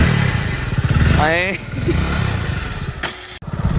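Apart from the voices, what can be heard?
motorcycle running with a newly changed silencer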